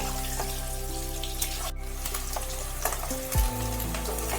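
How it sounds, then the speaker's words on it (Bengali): Potatoes frying in mustard oil, a loud steady close sizzle with light crackles and a low hum underneath, with no talking. "সর্ষের তেলের মধ্যেই আমি সমস্ত আলুকে ভেজে নিয়েছি একটু লাল লাল করে"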